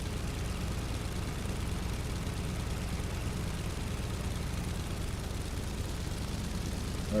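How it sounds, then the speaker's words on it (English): An aircraft engine idles in Microsoft Flight Simulator 2020 with the throttle set to about 1000 RPM, giving a steady, loud, low droning rumble that holds unchanged throughout, with no voices. "Engine is now running. We'll crank the throttle up to 1000 RPM."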